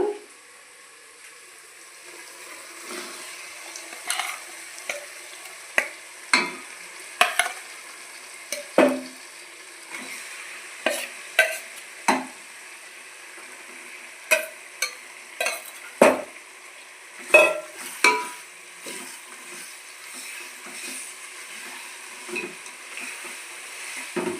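Chicken frying with ginger garlic paste in a pan makes a constant sizzle. Spoon scrapes and clinks against the pan break through it at irregular intervals, close and clear.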